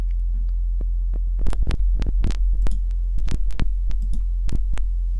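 Heartbeat-like throbbing effect from the Resident Evil 3 (1999) video game: a steady low hum with a run of irregular, loud thumping pulses over about five seconds, with no talking.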